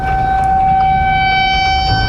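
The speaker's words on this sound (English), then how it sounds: "Sirens blaring, that ominous warning in Alabama that a deadly tornado was on the way." A steady, sustained tornado warning siren wail in Alabama blares without pause over a low rumbling background.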